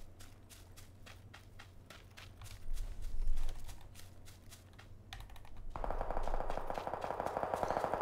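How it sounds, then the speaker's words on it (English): Rapid gunfire in the video game PUBG pops in quick bursts, mixed with loud, close keyboard typing and clicking, then a steady mechanical whir takes over near the end. "So we're heading south and that's where the gunshots are coming from."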